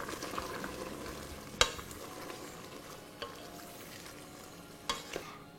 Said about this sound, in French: On y rajoute maintenant la viande que l'on a retirée. On va bien mélanger tout ça.